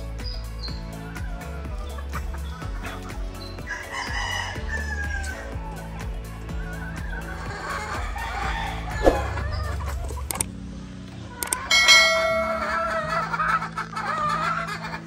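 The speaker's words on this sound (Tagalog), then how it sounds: "Ayan ang aking kuya Jericho na kapartner ko sa pagbimintena ng manukan, ng mga panlaban, ng mga inahin" Chickens cluck and crow in a poultry yard keeping gamefowl and hens, a dense layered flock chorus with repeated clucks and occasional rooster crows, fairly close and steady throughout.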